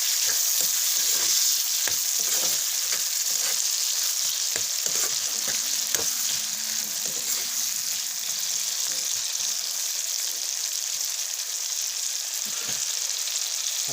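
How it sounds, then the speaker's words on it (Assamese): Potatoes, egg and tomatoes fry in a pan with a continuous bright sizzle, broken by repeated scraping and clacking strokes as the mixture is stirred, close and steady with no talking. "অলপ লৰাই দিছোঁ।"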